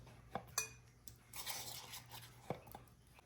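Orange Jell-O and cottage cheese scraped out of a container into a large bowl, with a few sharp utensil clinks and soft scrapes close by.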